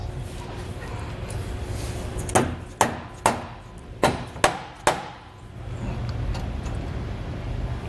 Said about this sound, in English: I'm gonna just take my rubber mallet here and kind of give it a little bit of extra room there